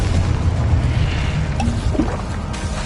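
A Confringo explosive spell blast from Hogwarts Legacy: a loud, dense low rumble throughout, with a few brief crackling pops in the middle and a short burst near the end, no talking.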